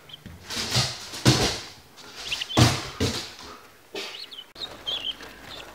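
Baby guinea fowl chicks, a few days old, peep in short, high, thin bursts nearby, irregular and fairly quiet, with some soft rustling between calls.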